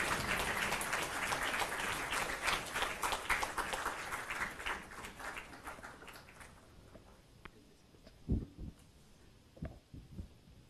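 Audience applause at a university event, dense steady clapping for about six seconds that thins out into a few scattered claps before fading.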